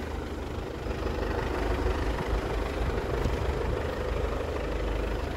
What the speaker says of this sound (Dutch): En die trekker trekt ons vooruit.